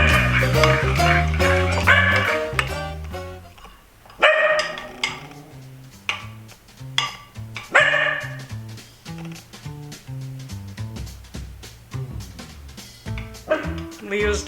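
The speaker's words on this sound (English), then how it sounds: "Leo's doing his job at the window, barking at the birds." Leo, a dog at a window, barks at birds in repeated sharp bursts, close and loud, with pauses between, alongside household sounds.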